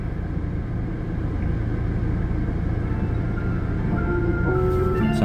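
Steady road traffic with cars passing, a continuous loud rumble of engines and tyres close by, with no talking.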